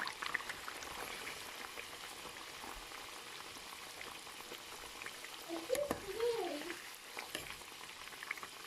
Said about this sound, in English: fry them until they get nice and brown